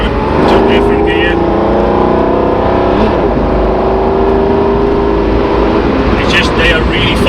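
Mercedes 190 with a V12 engine and 722.6 automatic gearbox driving, a loud steady engine drone that shifts pitch as a gear changes midway, recorded from inside the car.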